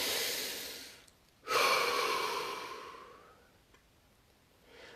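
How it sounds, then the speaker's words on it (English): A deep, drawn breath inhaled and slowly exhaled during a guided relaxation session, a loud airy rush that fades gradually, with a fainter breath following, no talking. "Deep breath."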